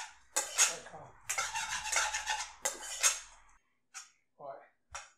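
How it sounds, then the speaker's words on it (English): Rice is stirred into a pot of lamb biryani, heard as close bursts of scraping, clattering spoon strokes separated by short pauses, ending with a few isolated taps. "what you want to do is mix the rice in"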